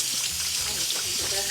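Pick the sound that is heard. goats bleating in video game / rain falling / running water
running water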